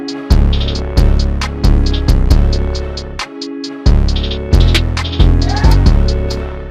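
A deep distorted 808 bass synth plays a pulsing pattern of heavy booming notes with gritty, buzzy overtones, loud and alone, with one brief gap.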